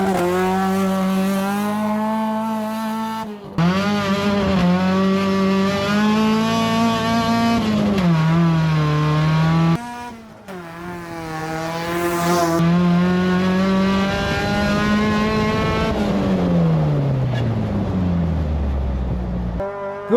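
A cheap track-ready race car screams hard under acceleration, its loud engine note climbing through each gear with brief drops at the shifts, revving up again and again before easing off near the end.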